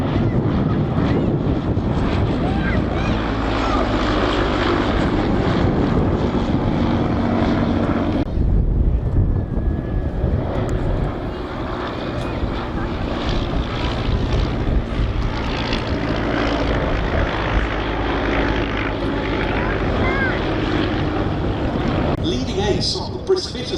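A Bristol Fighter, a First World War two-seat propeller biplane, drones steadily overhead at an air display, its engine sound continuous and fairly loud throughout with a dip partway through, under a voice talking.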